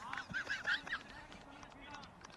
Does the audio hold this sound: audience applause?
no